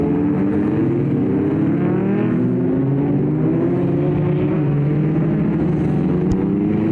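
Formula Vee race cars at Red Star Raceway in a race heat, engines droning loudly and continuously with rising and falling pitch as several cars run close together.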